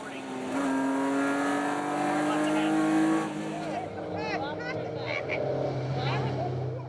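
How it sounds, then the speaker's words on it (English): A 1972 BMW rally car fitted with an M3 engine, competing in the Targa Newfoundland rally, roars past with a rising, then falling engine note as it passes close, then fades into the distance. "Mr. Van Zutphen, you've just been passed by a 72 BMW."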